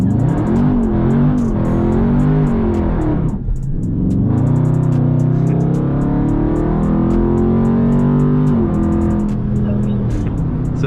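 Dodge Charger 392 Scat Pack in Sport Plus mode launching at wide open throttle, a loud, close roar that dips briefly at about three seconds and then surges again, with some talk mixed in.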